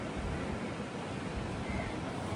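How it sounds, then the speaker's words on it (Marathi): Ocean waves surge and wash at a Goa beach, a broad steady roar of surf with wind noise buffeting the microphone, fairly faint and without talk. "बाबा लाटा बघ कसले आलेत त्या"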